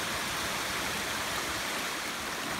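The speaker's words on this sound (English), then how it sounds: "another trickling waterfall coming down" A trickling waterfall feeding a stream in a state park gorge makes a steady, dense wash of rushing water, constant and fairly close, with no voices over it.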